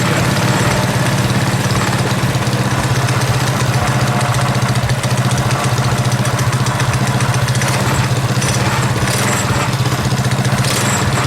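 A modified Predator 212cc engine on a KT196 go kart idles loud and close, a steady throbbing low rumble that runs unbroken with slight irregular pulsing and no talk.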